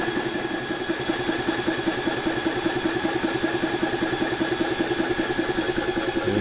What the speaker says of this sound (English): It's going to take a little while to actually get the compressor up to pressure.